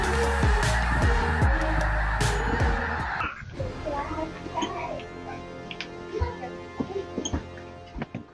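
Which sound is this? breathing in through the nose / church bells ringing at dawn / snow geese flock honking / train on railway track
snow geese flock honking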